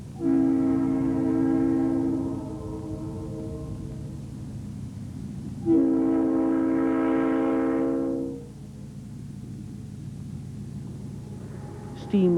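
General Motors diesel locomotives near Anshan, China sound two long, loud multi-tone horn blasts separated by a pause, over a rumbling train, with a voice talking in the background.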